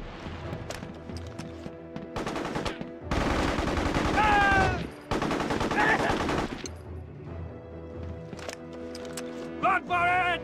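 Gunfire in a war-themed action video game: short bursts of rapid automatic fire rattle in dense clusters between quieter gaps, with shouted voices and other game noise around them.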